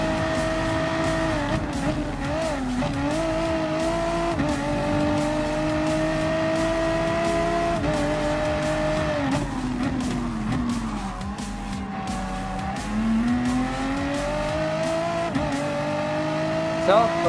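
Race cars, including a Nissan and BMW M6s, lap a track in Gran Turismo Sport. Their engines whine and shift pitch through corners, with bursts of tire squeal, while a voice talks over the racing.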